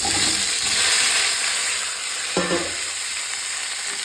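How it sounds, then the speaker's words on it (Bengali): Half-boiled taro pieces fry in hot oil with a loud, steady sizzle and hiss, close up, with a brief clatter partway through and no talking. "এবার আমি দিয়ে দিচ্ছি এই যে তেলের মধ্যে কচুটা"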